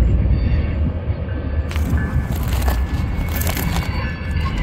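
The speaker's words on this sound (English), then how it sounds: "And a train's coming up here." A train rolls past on railroad tracks near Barstow and Daggett, a continuous heavy rumble with grinding, clattering wheel noise, loud and close throughout, with no talk.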